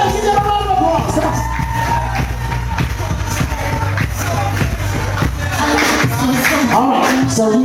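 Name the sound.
crowd applauding and cheering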